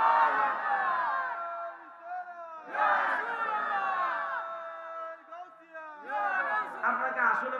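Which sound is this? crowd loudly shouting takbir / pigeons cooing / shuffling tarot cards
crowd loudly shouting takbir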